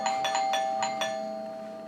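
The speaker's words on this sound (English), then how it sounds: "the doorbell rang continuously at like 1 or 2 in the morning" A doorbell chimes repeatedly in quick succession, about six bright rings in under two seconds over a steady electronic tone, loud and close.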